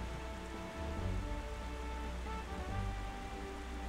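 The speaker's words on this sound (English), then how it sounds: "But it's definitely rain." Steady rainfall in the video game The Legend of Zelda: Wind Waker patters evenly throughout, with soft game music playing underneath.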